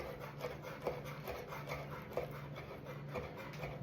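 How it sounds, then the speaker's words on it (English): A knife chops shrimp filling for shumai on a board, with soft, rhythmic taps and scraping strokes, quiet and close. "Kind of just chop it up like this."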